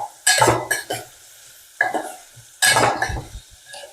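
A spoon stirs onions through a broad bean curry in a pan, giving two bursts of scraping and light sizzling with a soft pause between them. The sound is close and there is no talking.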